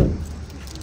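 Keys jangle briefly in a home, a short metallic rattle that fades quickly, close by with no talk over it.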